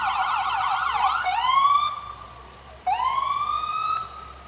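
Wailing ambulance sirens at a homecoming parade, loud and close, sweeping up and down in pitch, cutting off briefly and then starting again.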